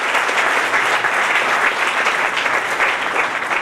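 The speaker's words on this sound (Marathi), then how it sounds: "तिच्याबद्दल टाळ्या" Audience at an anniversary gathering of a Karhade Brahman association applauding, a steady, loud, dense patter of many hands clapping without a break.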